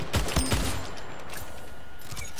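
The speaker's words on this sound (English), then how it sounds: "Wait, was that a sniper rifle or a battle rifle? I think that was a battle rifle." Battle rifle fire in the arena shooter Splitgate, a quick cluster of sharp shots right at the start, then a faint backdrop of distant, softer pops.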